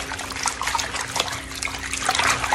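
Collard greens being shaken and rubbed by hand in a bowl of water, producing continuous sloshing and trickling splashes at close range with no talking.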